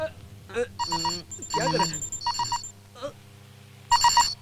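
A mobile phone rings with a repeating electronic ringtone, bursts of bright tones that pause and restart, mixed with brief voices and movement in a tense room during a search.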